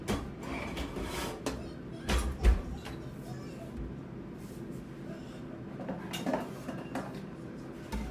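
Fresh ginger and garlic are handled on a cutting board in a home kitchen, with clattering knocks and utensil clinks that come irregularly, a couple of them louder thuds, over a steady background.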